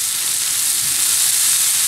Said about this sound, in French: je fais revenir mes poireaux coupés très finement dans le beurre pendant 5 minutes